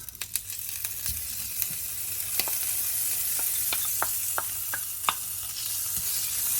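Butter sizzling and melting in a hot pan as the base for a cheese topping on baked spaghetti, a steady close hiss with scattered sharp crackles and pops throughout, no voices.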